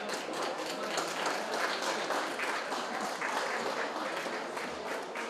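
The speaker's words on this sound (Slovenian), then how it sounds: "Prosim, en aplavz." An audience at an accordion school concert breaks into close, steady applause, a thick wash of many hands clapping evenly for the whole stretch.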